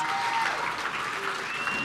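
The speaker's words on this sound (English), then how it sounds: "can we give all of them a big round of an applause?" A conference audience applauds a panel loudly and continuously, dense clapping filling the whole moment.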